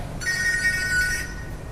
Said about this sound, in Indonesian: Wah, telepon-teleponan kamu.